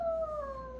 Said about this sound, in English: You can make it howl.